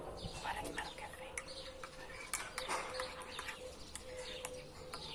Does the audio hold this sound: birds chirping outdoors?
yes